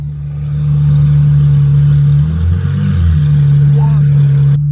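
A Ferrari's exhaust rumbles close by as a loud, steady low drone that swells into a brief deeper rev in the middle, then settles back to idle.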